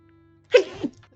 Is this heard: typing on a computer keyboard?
no